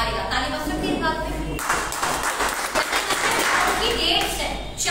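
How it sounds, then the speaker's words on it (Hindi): An audience at a network marketing business-plan presentation breaks into applause partway through, a dense wash of clapping that carries on to the end after a moment of amplified talk. "ताली बज सकती है इस बात पे?"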